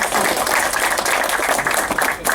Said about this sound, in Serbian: Ja bih molio da ga pozdravim aplauzom